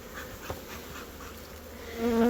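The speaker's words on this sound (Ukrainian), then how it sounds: "бджоли гарно піднялися, вони трошки злосні" A dense, steady hum of honey bees buzzing close by around a hive, swelling a little louder toward the end.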